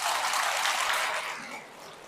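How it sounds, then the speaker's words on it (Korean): A congregation claps together inside a Catholic church in Uidong, Seoul, a dense burst of applause that holds briefly and then fades away. "박수 한번 쳐주세요."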